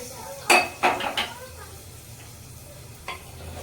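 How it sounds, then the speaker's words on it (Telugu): A spoon scrapes and clinks around a pan of carrot halwa, with three sharp metallic strokes in quick succession, then a softer clink later over a low background hum. "మొత్తం కలిసేలా కలిపెట్టేసుకోవడమే."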